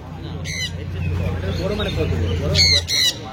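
A hand-tame exotic pet bird at a bird market gives a couple of sharp, loud squawks close by near the end, while people talk throughout.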